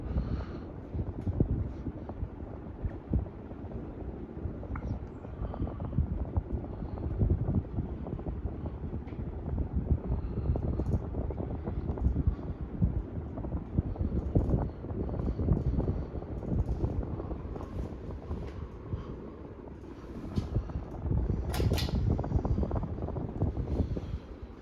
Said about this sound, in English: Could also be the fact that the fan's trying to wobble